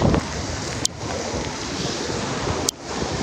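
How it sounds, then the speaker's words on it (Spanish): Heavy rain pours down during Hurricane Kay on a road near San Felipe in Mexicali, with floodwater rushing, a steady loud broadband roar of downpour and wind that continues without a break. "está lloviendo pues muy intensamente aquí en esta zona"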